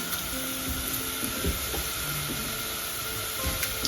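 Curry leaves crackle and sizzle in hot oil for a Rayalaseema-style menthi pappu, a dense, steady frying hiss with small pops scattered throughout, close and loud with no talking.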